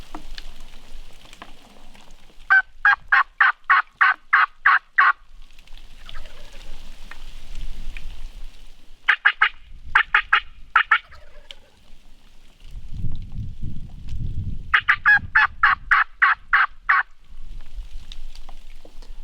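A wild turkey gobbles in the snow, three bursts of rapid rattling gobbles spaced several seconds apart, loud and close, with a low rumble between the second and third.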